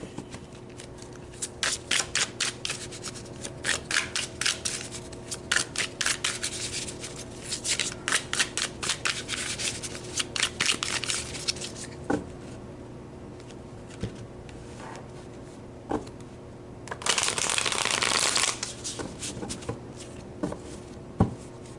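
Tarot cards being shuffled by hand, a run of crisp riffling bursts and rubbing strokes in irregular clusters, with one longer dense riffle near the end, close and alone with no talking.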